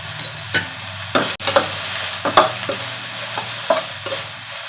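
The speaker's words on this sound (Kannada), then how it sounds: "ಹೈ ಫ್ಲೇಮ್ನಲ್ಲಿಟ್ಟೆ ಇದನ್ನು ಬೇಯಿಸ್ಕೋಬೇಕು" Mushroom manchurian sizzles in a pan over high flame, a loud steady frying hiss punctuated by repeated spatula scrapes and knocks against the pan.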